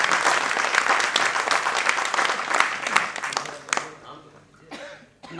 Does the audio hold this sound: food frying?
no